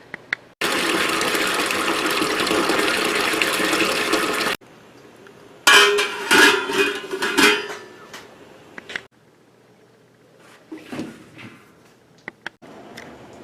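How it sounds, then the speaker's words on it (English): Tap water runs steadily into a container for about four seconds, loud and close, followed by sloshing, clattering handling noises and scattered knocks. "So I'm going to fill this with water,"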